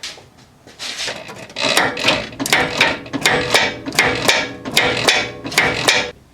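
A worn idler arm on a Lincoln, Ford or Mercury vehicle, 87-02, clunks repeatedly as the steering wheel is turned back and forth, giving a rhythmic series of close knocking bursts with rattly metal texture.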